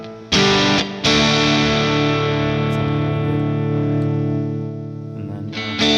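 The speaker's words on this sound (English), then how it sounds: "I can crank up the gain to the amp a little bit, get a little more grit." An electric guitar chord rings out through an overdriven amp with the gain cranked up, gritty, loud and sustained, with a second strike just after the first and no voices.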